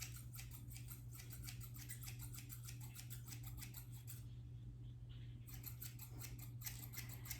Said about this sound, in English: you get chunkier chops when you use like crappy office scissors like this